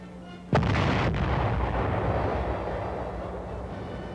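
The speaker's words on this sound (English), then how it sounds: "A gun crew fires a 105mm howitzer." A gun crew fires a 105mm howitzer in wartime Korea, one sharp, loud blast followed by a long rumbling echo that slowly fades.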